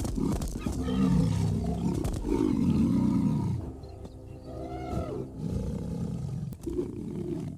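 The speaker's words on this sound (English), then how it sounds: "A fully grown male lion, bearing a dense, dark mane, represents something categorically different from the females." A fully grown male lion with a dense, dark mane roars in a series of deep, loud, rumbling bellows, with grunting bursts trailing off toward the end.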